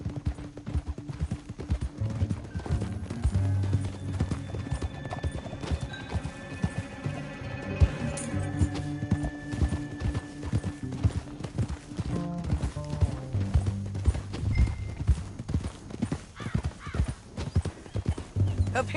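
Horse hooves clip-clop steadily on the ground in the Western game Red Dead Redemption 2, a close and continuous rhythmic trot with a brief whinny, while faint voices talk and music plays underneath.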